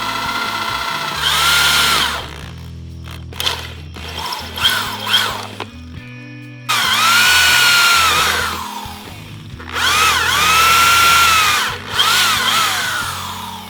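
A power drill boring into a wheel hub whines loudly in several long bursts, its pitch rising and falling under load, with short pauses and clanking between runs.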